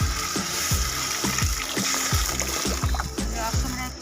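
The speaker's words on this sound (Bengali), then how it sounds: "মশলা কষিয়ে নেওয়ার পরে আমি এখানে দিয়ে দিচ্ছি পরিমাণ মতো জল" Water is poured into fried spice masala with mango pieces in a pan, a steady splashing pour with rhythmic glugging pulses, close and fairly loud.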